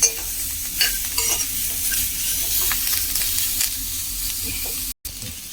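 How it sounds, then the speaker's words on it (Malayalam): Curry leaves and bitter gourd sautéing in a pan, giving a continuous close sizzle with brushing stir strokes over it, steady and moderately loud, with a brief cut near the end. "ഒരു കറിവേപ്പില ഇട്ട് കൊടുത്തു. അതും കൂടി ചേർത്തൊന്ന് വഴറ്റിയെടുക്കാം കേട്ടോ."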